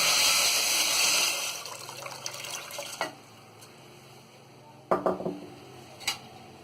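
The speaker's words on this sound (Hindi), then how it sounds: "और इसी में हम पानी डाल देंगे।" Water poured from a vessel into a pot of sugar on a gas stove for gulab jamun syrup: a steady splashing gush for about three seconds, then quiet, followed by a few light metallic clinks.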